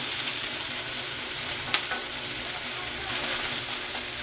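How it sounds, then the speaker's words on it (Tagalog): Chayote (sayote) sautéing in a hot pan, a steady loud sizzle and fry that runs throughout, with a couple of sharp clicks as pieces are stirred. "Dito tayo ng sayote guys. Lagay natin yung sayote."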